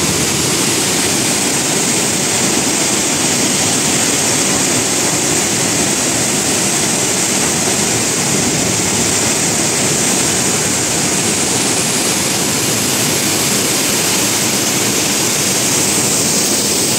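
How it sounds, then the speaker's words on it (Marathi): Katalapur waterfall near a temple at Bhandardara, in full spate, roaring as a loud, unbroken broadband rush of water that holds steady throughout with no voices. "मंदिराच्या उजव्या बाजूला कातळापूरचा धबधबा ओसंडून वाहत आहे आणि खूप प्रचंड असा आवाज मंदिरापर्यंत येत आहे"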